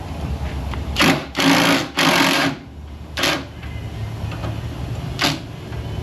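Power tool in tightening mode driving a nut onto a stud in a car repair shop: several short, loud whirring bursts of about a second each, a pause between them and then two briefer spurts, close by against a low background hum.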